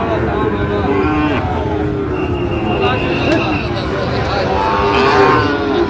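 Sahiwal cattle moo at a cattle market in Faridpur, with several drawn-out lowing calls close by under ongoing human chatter and background market noise.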